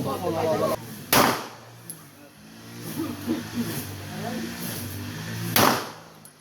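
Two sharp gunshots crack about four seconds apart, loud and close, with people talking in between.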